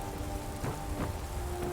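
Rain in the Skyrim video game, with dense steady hiss of drops falling on surfaces across the whole stretch and faint low rumbles, no talk.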